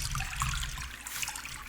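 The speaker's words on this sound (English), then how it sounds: "Enjoy the water, June." Water runs steadily in a quiet indoor setting, a soft continuous trickle and splash like a tap or bath filling, close by and alone.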